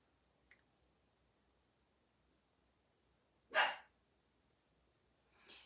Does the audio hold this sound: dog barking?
yes